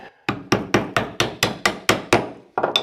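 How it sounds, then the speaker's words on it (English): A chisel struck repeatedly with a mallet while cutting a mortise in wood, paring thin slivers of waste down to a knife line: about eight sharp, evenly spaced close knocks in a steady rhythm, with no talk. "So I'll find that knife line with my chisel"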